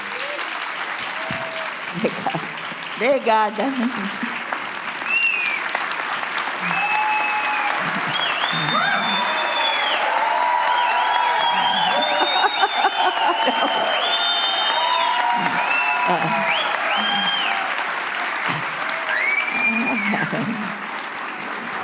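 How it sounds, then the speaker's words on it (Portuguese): Standing ovation at a municipal congress on active ageing in São Paulo, following a keynote panel: dense, sustained applause with scattered whoops and cheers from a large audience, and someone briefly speaking over it. "um aplauso, uma ovação de pé para a dona"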